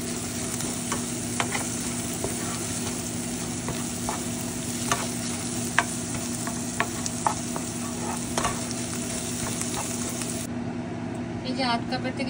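Frying masala for a string beans curry being stirred in a pan, with loud continuous sizzling and repeated scraping strokes of a spoon close by, holding steady throughout.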